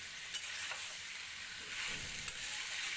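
Fried potatoes and spices sizzle softly in a pan while a spoon stirs, with a couple of sharp scraping taps against the metal.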